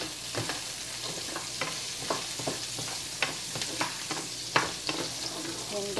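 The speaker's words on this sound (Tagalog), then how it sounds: "I-fry lang natin yung garlic." Garlic frying in a pan with a steady, even sizzle throughout, broken by scattered clicks and scrapes from stirring.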